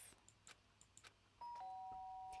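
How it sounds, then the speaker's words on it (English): A two-tone doorbell chime from the game Danganronpa Trigger Happy Havoc rings out clearly as sustained electronic tones, following a few faint soft taps. "Ding dong!"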